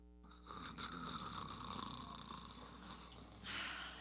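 A man snores in a TV commercial, with a long raspy breath drawn through sleep and a fresh snore starting at the end, heard alone without talk.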